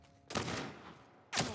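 Two loud gunshots from the video game The Last of Us Part I crack out a second apart, each with a booming tail, close and without speech.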